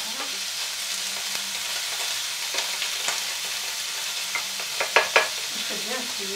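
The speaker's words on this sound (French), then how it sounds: "Votre saucisse. On peut la faire cuire." Sausage fries in a pan with a steady sizzle, occasional stirring and a few sharp pops near the end, close and without talk.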